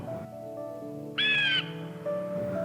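A bird gives a harsh, squawking call, one loud burst standing out over a quiet background of tonal sounds.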